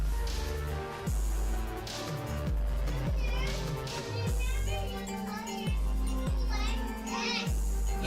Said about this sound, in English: I'm sure you guys can hear my daughter outside there.